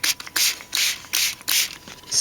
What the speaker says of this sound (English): And then I'll spray.